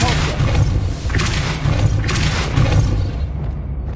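Depulso spell cast in the video game Hogwarts Legacy, heard as a couple of forceful booming thuds with broadband bursts over a steady low rumble of game sound.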